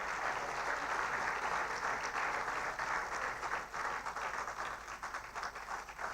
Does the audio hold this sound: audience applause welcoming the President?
yes